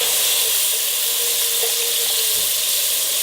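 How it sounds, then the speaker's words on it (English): A hot pan of beef stroganoff base sizzles loudly and steadily as red wine is poured in to deglaze it, a dense hiss close up with faint bubbling and no talk. "going to deglaze the pan with the red wine"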